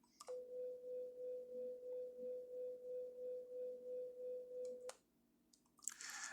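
Two sine tones at 500 and 503 hertz play together, producing a steady hum whose loudness swells and fades about three times per second for nearly five seconds, then stops abruptly.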